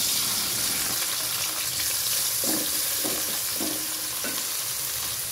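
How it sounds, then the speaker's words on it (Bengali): Chopped onions hiss and sizzle steadily in hot oil used for frying crisp onions, with a few soft stirring scrapes in the middle, close and continuous with no talking. "এখন বেরেস্তার তেলে দিয়ে দিচ্ছি 2টি পেঁয়াজ কুচি।"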